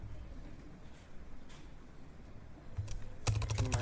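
Quick bursts of typing on a computer keyboard, faint and close, with soft scattered keystrokes building to a denser run of clicks near the end.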